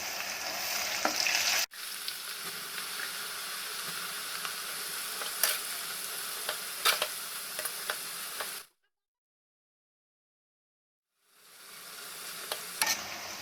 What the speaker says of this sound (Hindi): ऐसे इसको डालेंगे बीच में और इसको क्रिस्पी होने तक फ्राई करेंगे